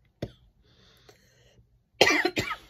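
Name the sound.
coughing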